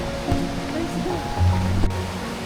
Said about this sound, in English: the sound of rushing water grew louder, echoing between the towering cliffs